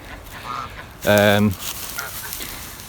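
A single loud goose honk rings out briefly over quiet outdoor background noise, fairly close.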